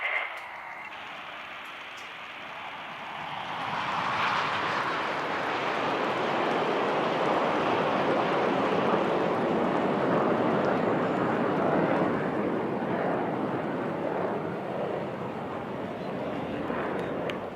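Surya Kiran aerobatic team jets fly past at an Indian Air Force anniversary aerial display in Chennai, a broad roar that swells in after a few seconds and holds loud, with crowd noise beneath.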